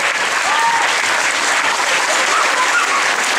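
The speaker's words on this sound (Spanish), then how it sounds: "fuerte el aplauso para ellos" Steady, dense audience applause fills a theatre hall during a puppet festival, sustained and fairly loud throughout with a few faint voices mixed into the crowd.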